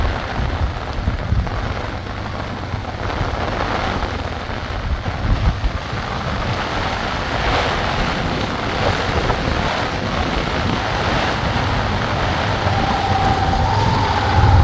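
Strong wind from Cyclone Ditwah in Mullaitivu, Sri Lanka, roars and gusts continuously, with a rushing, rain-like hiss throughout and no voices.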